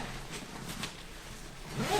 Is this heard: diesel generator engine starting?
no